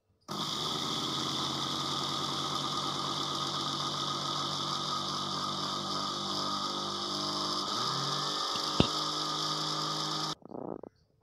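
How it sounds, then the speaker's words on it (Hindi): Electric grinder whirring steadily at high speed as it pulverizes kheer mix into powder, a loud continuous motor hum that drops in pitch near the end before cutting off, followed by a brief rattle. "ग्राइंडर में इसे पीस लें।"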